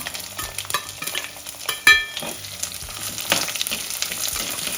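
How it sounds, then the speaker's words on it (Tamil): Small onions sizzle and crackle in hot oil for a lentil ball curry, with a spoon or spatula scraping and stirring throughout, fairly close and steady. "இது இப்போது இந்த நூறு கிராம் சின்ன வெங்காயத்தை மறுபடி போட்டு வதக்கலாம்"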